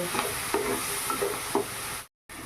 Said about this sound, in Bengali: এবার এটা ভালোভাবে নেড়ে চেড়ে কষিয়ে দেব